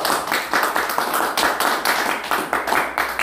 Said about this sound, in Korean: 박수 한번 치고 합시다.